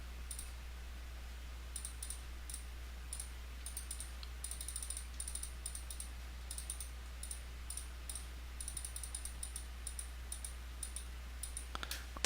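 Slow, light clicking of a mechanism in the modded game Solitary Craft, sharp ticks arriving in irregular bursts over a quiet low hum, with no talking.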